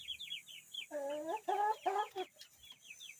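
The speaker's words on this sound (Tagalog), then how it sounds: "Bumida din ang isang manok." A chicken clucks in a run of close, throaty calls, with faint chirping birds in the background.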